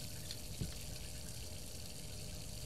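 Water runs steadily from a tap in the horror video game Layers of Fear, a quiet, constant faucet flow with one faint knock near the start and no talking.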